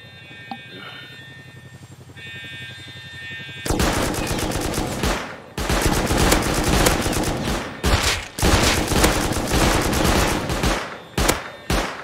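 Heavy gunfire in the survival game Rust: quiet ambient rustling gives way to loud, close bursts of rapid shots and short volleys that continue in clustered waves with brief gaps.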